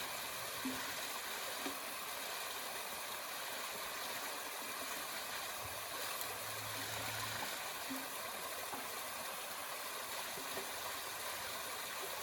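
Cold Highland water runs in a stream on a Scottish wild walk, a steady broadband rush heard from close by with no voices over it.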